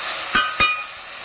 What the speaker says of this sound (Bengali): সেই কারণে এটাকে আগে ভেজে নিচ্ছি